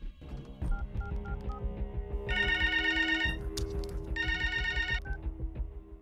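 A telephone rings in two bright electronic bursts over a steady musical background with a pulsing beat.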